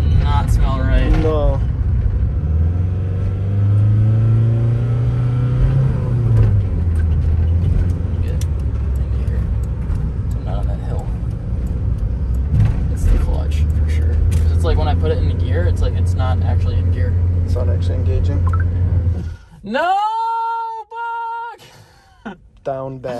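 Volkswagen Beetle with a burned-out clutch, its engine droning loud and close as it strains and shifts pitch over about twenty seconds before cutting out, followed by a squealing, tonal whine.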